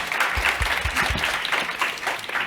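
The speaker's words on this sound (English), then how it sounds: "Round of applause." Audience applause following a speech at a sustainability finance plenary debate, a steady dense wash of clapping throughout with a few low thumps near the start.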